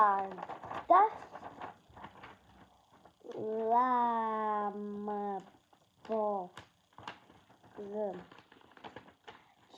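A female house cat named Mini meows several times: a long drawn-out cry in the middle and shorter calls before and after, close and clear, with faint human speech and handling noises in between.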